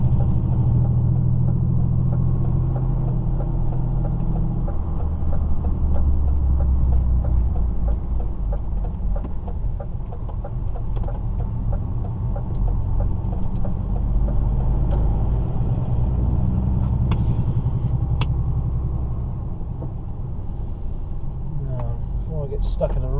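Steady low rumble of cars in slow traffic, engines idling and moving close by, with a person talking over the noise throughout.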